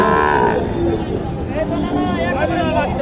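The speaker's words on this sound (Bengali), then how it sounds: "চমৎকার একটি গরু" A crossbred cow moos loudly and close by at a cattle market in Naogaon, Bangladesh, one long low call stretching across the clip amid a noisy crowd murmur.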